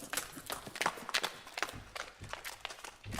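Horse hooves from a western sound effects library: quick, uneven clip-clop strikes in a rapid galloping rhythm, close and moderately quiet, with no talking.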